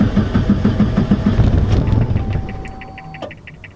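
A car engine with more than 400 horsepower, running on E85 and sitting on new soft motor mounts, fires up and settles into a loud, steady idle close by, a thin whine rising toward the end.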